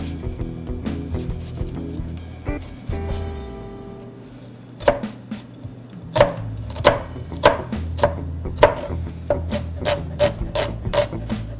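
A knife chops garlic, shallots and herbs on a cutting board with sharp, close, evenly spaced strikes, settling into a quick steady rhythm after some earlier scraping and handling sounds.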